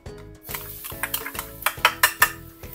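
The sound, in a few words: garlic added to hot oil in a wok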